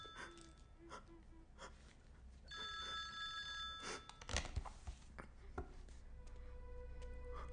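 A telephone rings in a Telugu thriller film scene: a faint, steady ringing tone, repeated a few times over a quiet background. Brief gasps and low voices are heard around it.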